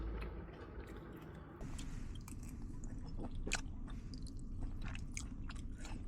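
Close chewing and crunching of stir-fried Korean blood sausage (sundae bokkeum) made with perilla oil, perilla seed powder and perilla leaves, eaten at a winter solo camp; steady wet mastication with occasional crisp bites, no talk.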